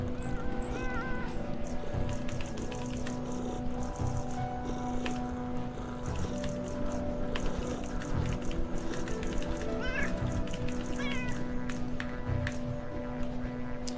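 Hostile cats in the video game Underrail make meowing calls among dense game sounds: steady hum, clicks and clattering effects that run throughout, with speech-like noise in places.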